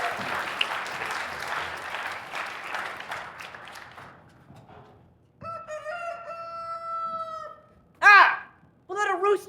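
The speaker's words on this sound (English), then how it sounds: "We'll let a rooster in here." A rooster crows once in the video game cat:burgled, a clear drawn-out call heard after a stretch of clattering, applause-like noise, followed by short bursts of voice.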